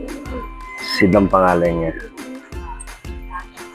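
A ringed racing pigeon coos in a close, throaty burst while someone speaks nearby, the cooing partly under his talk.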